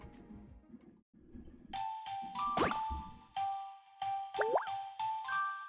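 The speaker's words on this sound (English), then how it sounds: "That's my phone. My supervisor is calling." A phone in the video game Stella Sora rings with repeated bright electronic chime tones and ding-like pulses in short bursts, close and clear with no talking.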